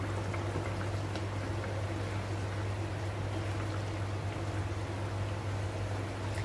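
Hilsa fish curry simmering in a covered pot on the stove, a steady soft bubbling hiss with a low hum underneath, continuous and even throughout.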